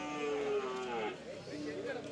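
A single drawn-out cow moo, low and mournful, sounding from a moderate distance at a cattle and buffalo market, with faint background noise.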